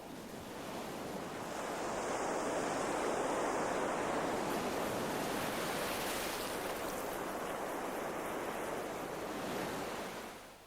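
Strong Khareef monsoon wind and surf pounding an Arabian shore on the Indian Ocean, a dense continuous roar that swells in and holds loud throughout with gusty wind noise, no voices.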